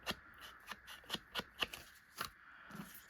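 Paper edges being distressed for a junk journal pocket, a series of short scraping strokes repeated about eight times in an uneven rhythm, close and fairly quiet, with no talking.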